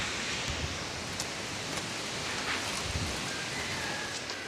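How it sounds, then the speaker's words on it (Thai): Steady wind blows in a constant broadband rush through a forest, with faint rustling ticks scattered through it and no voices. "เสียงลม"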